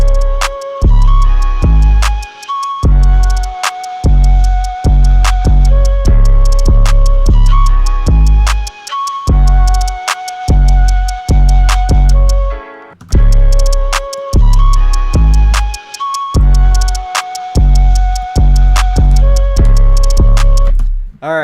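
Hi-hats tick steadily through a loud FL Studio trap type beat, riding over heavy booming kicks and bright synth notes, with a short break partway through.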